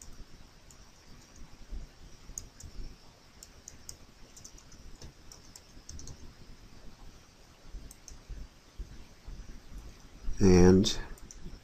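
Someone typing a CAPTCHA on a computer keyboard: light, fairly close key clicks tapping in quick irregular runs for several seconds. A louder burst of voice cuts in near the end.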